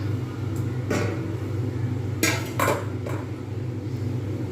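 Chickpeas and potatoes tipped into a cooking pan for chana masala, a couple of sharp metallic clinks and clatters of utensil against pan over a steady low kitchen hum, no talk.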